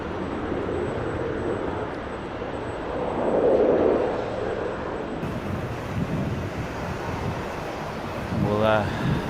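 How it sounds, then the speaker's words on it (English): A Qantas Boeing 737 jet at Sydney Airport produces a broad, steady roar that swells mid-clip amid wind buffeting on the microphone, with a brief voice near the end. "That's Qantas 737 in from Tassie. Wi-Fi enabled 737."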